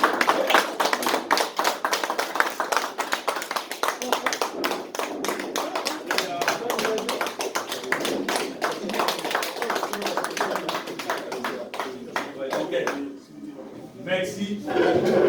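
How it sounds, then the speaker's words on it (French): An audience at a Matete Bomoko committee handover meeting applauds to approve the new committee: dense, steady clapping that runs the whole stretch with voices mixed in, thinning briefly near the end before picking up again. "On applaudit, nous avons approuvé la nouvelle équipe."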